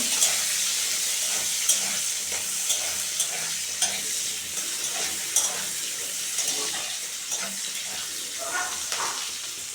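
Onions and garlic cloves browning in a frying pan for a shankar (stingray) fish curry give a steady, close sizzle, with repeated scraping stirs and small clinks throughout.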